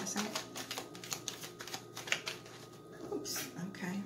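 Tarot cards being shuffled by hand, a series of quick soft riffling clicks and taps in an irregular rhythm, close and fairly quiet.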